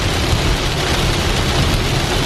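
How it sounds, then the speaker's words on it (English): Heavy rain pours down outdoors in a steady, dense roar that fills the whole clip without letup, with no voices present. "the rain could stop, but it could be like this, you know, for the duration of the day."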